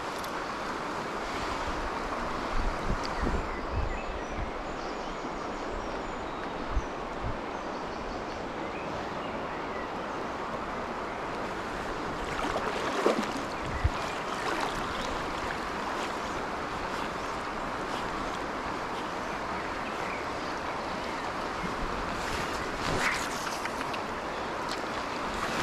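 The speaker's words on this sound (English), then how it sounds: "Oh, that's a horrible wind." Strong wind buffets the microphone beside the River Tay in Scotland, a continuous broadband roar with gusty swells and occasional bumps, loud and close throughout with no talking.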